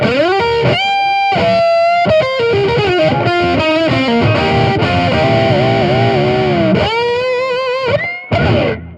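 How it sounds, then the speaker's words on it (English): Electric guitar on a coil-tapped neck humbucker, through an amp-simulator tone, with a slightly crunchy, bright sound plays a melodic lead phrase with quick runs and held notes, close and steady, no talking. "That tone also sounds great on a coil-tapped neck humbucker."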